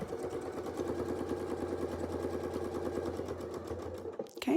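A sewing machine stitches a line in a rapid, even mechanical chatter for about four seconds, close and moderately quiet, then stops with a brief handling noise.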